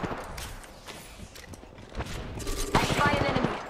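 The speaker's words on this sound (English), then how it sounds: "Shooting." Gunfire crackles in bursts during a firefight in the shooter game Fuse, mixed with mechanical clatter and thuds that grow denser and louder toward the end.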